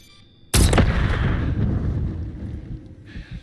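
A loud bomb blast erupts suddenly in Call of Duty Modern Warfare 3, followed by a long rumbling roar and scattered gunfire trailing off over a few seconds.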